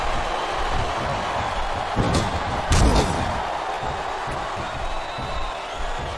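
A WWE crowd roars continuously at the ECW Championship elimination chamber match at December to Dismember, with heavy ring thuds and slams punching through the noise about two and three seconds in.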